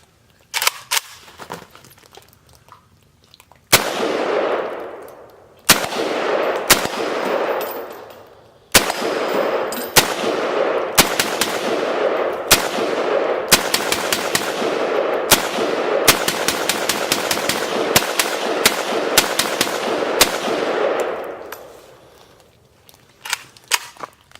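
A WASR-10 Cugir Romanian AK-47 rifle fired outdoors in sharp, loud shots, first a few singles and then rapid strings, each crack ringing out in a long echo before stopping.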